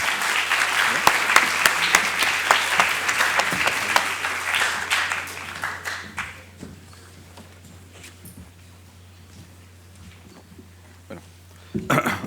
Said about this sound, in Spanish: Por favor, démosle la bienvenida con un fuerte aplauso